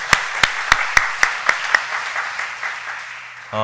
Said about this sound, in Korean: 우리 하나님께 다 같이 박수 영광 올리시겠습니다